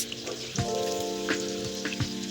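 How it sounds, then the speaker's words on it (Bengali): Pieces of rohu fish frying in oil, a continuous crackling sizzle with a low hum and occasional soft knocks and spatters, close and moderately quiet. "প্রথমে আমি মাছগুলো ভেজে নিলাম।"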